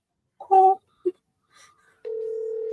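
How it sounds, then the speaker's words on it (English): A phone gives an odd ring with a couple of short tonal chirps followed by a sustained steady electronic tone. "Why the fuck does it ring like that?"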